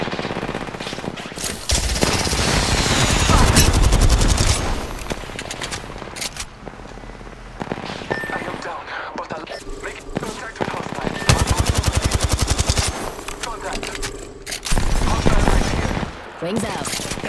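Gunfire in Apex Legends on PS4 Pro: long rapid automatic bursts rattle loudly in several waves with short pauses between, joined by scattered single shots and in-game voice callouts.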